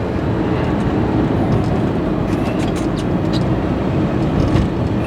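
Engine of a 1977 Ferrari 308 GTB, original and still on points ignition, pulling under acceleration: a steady, loud, dense engine roar that holds throughout without pauses, with no talk over it.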